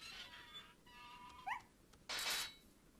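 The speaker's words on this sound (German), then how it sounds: "Gut, wir haben jetzt dem Hund geholfen." A dog caught in a bear trap in the video game Resident Evil 4 whimpers, giving a few faint rising yelps, followed by a brief burst of noise, all quiet and set against a hushed game ambience.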